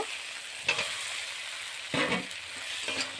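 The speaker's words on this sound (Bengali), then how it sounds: "তো আলুগুলো দিয়ে দিয়েছি নাড়াচাড়া করে নেব" Potatoes tossed into onion masala are stirred around a sizzling pan, a soft continuous fry punctuated by a few louder scrapes and turns, close and without speech.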